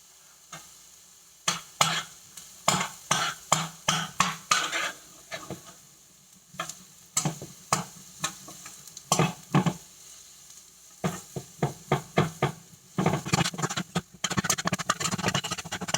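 Onions frying in a pan, a quiet sizzle beneath repeated clacking scrapes and knocks of a utensil stirring in rhythmic bursts, close and alone without talk.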